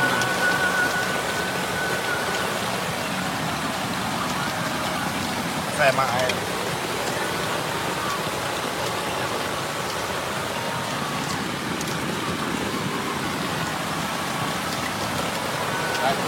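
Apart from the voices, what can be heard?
heavy rain at a flooded river campsite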